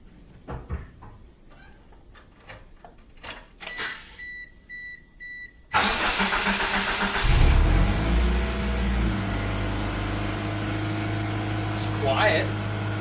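A 1997 Mitsubishi Eclipse Spyder with a custom exhaust cranks and fires at about six seconds, then settles into a loud, steady idle. Clicks and short beeps come before the start, and a squeaky belt can be heard under the running engine.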